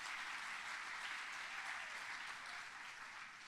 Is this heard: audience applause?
yes